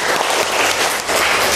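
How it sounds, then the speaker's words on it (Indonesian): Pupils in a chemistry classroom clap for a classmate, a brief burst of dense, close applause that stays fairly loud, dips for a moment and picks up again. "Tepuk tangan buat Aldo."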